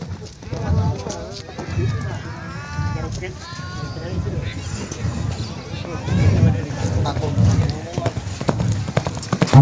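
Racehorses galloping on a training track ahead of a presidential cup race in Bantul, Yogyakarta, hooves drumming steadily under a continuous race commentary voice.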